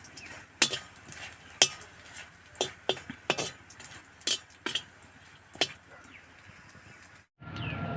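Dried fish frying in hot oil in a pan, with repeated sharp metallic clinks of a utensil against the pan over a low sizzle, the hiss fairly soft and steady throughout.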